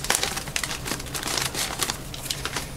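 Crinkly plastic rustles and crackles continuously up close, like a bag being pulled open and handled.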